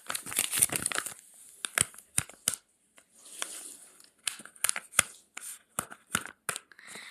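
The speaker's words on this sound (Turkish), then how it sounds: "Şimdi o zaman blend bag'imizi açıyoruz." A Squid Game blind bag packet is torn open by hand, with close, irregular bursts of crinkling and crackling plastic separated by short quiet pauses.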